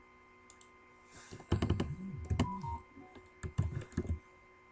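Keys clatter on a computer keyboard in scattered quick clusters with short pauses between bursts, close and fairly quiet, alongside a few soft clicks.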